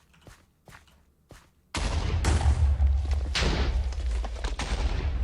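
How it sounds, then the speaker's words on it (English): Minecraft TNT blocks detonating in rapid succession, a few soft thumps first and then a sudden loud burst of booming explosions rolling on continuously, with repeated sharp blasts layered over the roar. "let's see how this fares with like a rapid succession of explosions"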